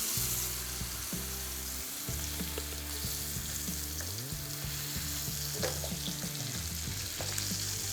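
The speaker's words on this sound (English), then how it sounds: "We're just trying to sear it off." Lamb chops searing on a barbecue grill: a constant, loud crackling sizzle with spitting fat, running steady without pause beneath a low droning hum.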